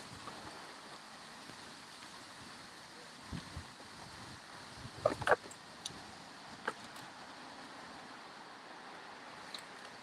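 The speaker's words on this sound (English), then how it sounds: "Family, that wind is blowing heavy today." Heavy wind blows outdoors as a low, steady rush with a few brief gusty thumps buffeting the microphone; fairly faint overall.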